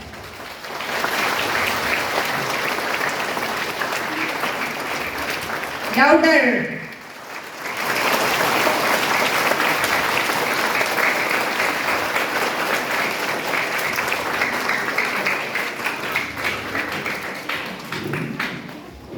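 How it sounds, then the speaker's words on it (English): Sustained applause from a school audience greeting Father at a school celebration, loud and steady for most of the stretch, with a short voiced interjection partway through. "Let us give him a huge round of applause."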